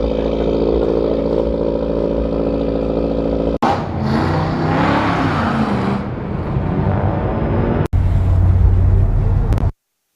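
Engines idling and revving at a night car meet in Fontana, with a steady harmonic idle hum that gives way to louder rising revs and clatter, recorded close up; the sound cuts off abruptly at the end.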